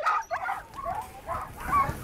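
Sled dogs in a summer kennel bark, yip and whimper in an overlapping chorus, moderately close, with steady background noise throughout.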